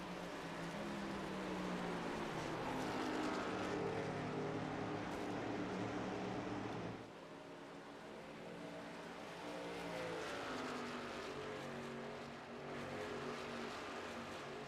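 Racing truck engines roar steadily in a sim racing game at Phoenix, a continuous loud drone of several motors with shifting pitch, a brief dip midway, then building again.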